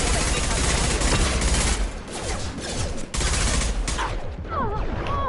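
Rapid bursts of gunfire from a Mass Effect 2 firefight, dense and loud almost throughout, easing briefly midway, with game voices and effects mixed in.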